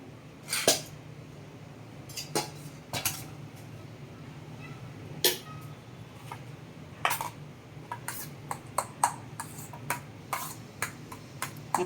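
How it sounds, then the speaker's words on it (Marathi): A spoon clinks against a bowl while chopped chilli is mixed into roasted aubergine for Khandeshi bharit, with scattered light metallic taps and scrapes, close and quiet, irregular and growing busier toward the end. "हे आपण मी या सगळ्या बाऊलमध्ये मिक्स करणार आहे"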